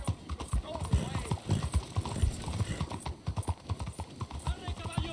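Horse hooves clip-clopping on the ground in Red Dead Redemption 2, a brisk irregular stream of close hoof strikes with a short whinny, under spoken voices.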